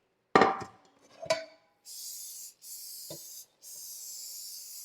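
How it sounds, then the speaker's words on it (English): Cooking spray is sprayed onto cake pans at a kitchen counter: a couple of pan clanks come first, then three steady hissing bursts of about a second each, close and fairly loud, with no talking. "I'm going to spray my pans with cooking spray."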